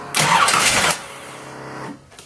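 A Chevrolet 350 small-block V8 fitted in a 1986 Jaguar cranks and catches on the key, a loud burst of starter and firing that settles within a second into a steady, nearby idle.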